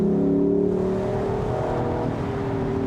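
A 2022 Lexus LC500 convertible revs in sport mode, its engine note loud, steady and sustained with a rising whir throughout, heard close and without talk.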